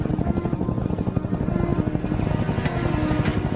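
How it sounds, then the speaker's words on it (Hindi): Army helicopter flying overhead, a loud continuous rotor chop with rapid pulsing thumps and broadband roar that stays steady and close, with no talking. "हाँ, ये हेलीकॉप्टर है,"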